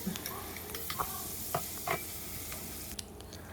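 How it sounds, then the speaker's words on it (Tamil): Prawn heads fry in hot oil with a steady, close sizzle, broken by a few sharp utensil clicks and scrapes as they are stirred in the pan; no one speaks. "அந்த எண்ணெயில் அந்த தலைப்பகுதியை நான் பொறிச்செடுக்க போகிறேன்"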